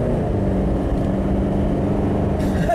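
A boosted Jeep engine with a low-power, tractor-like sound pulls hard under full acceleration from a standstill, a loud, steady, deep drone that rises slightly, heard close from inside the vehicle with no voices.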